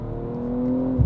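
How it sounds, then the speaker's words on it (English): A 2022 Toyota Supra engine revs on a downshift, its steady drone climbing slightly before a brief louder burst at the close, heard from inside the car. "I'm just gonna downshift and rip it"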